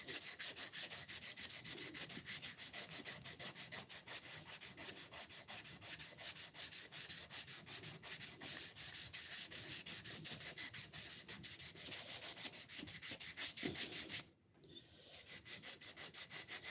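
Hand sanding a wooden handle to round its corners: steady, close, rhythmic rasping strokes, fairly quiet, continuing with a brief pause near the end.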